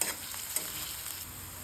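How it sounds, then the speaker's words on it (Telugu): Steady hiss and crackle of onion, curry leaves and spices sizzling in hot oil, with a couple of brief clinks near the start; no voices. "కొంచెం కరివేపాకు వేసుకొని పోపును కాసేపు వేపుకొని"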